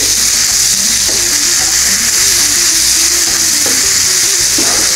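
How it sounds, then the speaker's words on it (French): Tomatoes and onions sizzle loudly in a frying pan while being stirred, a constant close frying hiss with faint scraping movements and no talking. "J'ai mis les tomates sur les oignons pour que l'humidité des tomates redescende jusqu'aux oignons. Je vais mélanger."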